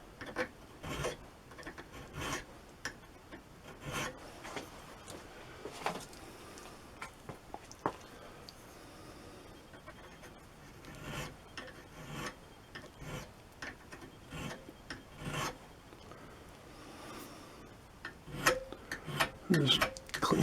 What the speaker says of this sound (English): And then I'd work my way all the way around and sharpen all of those edges on the Phillips screwdriver.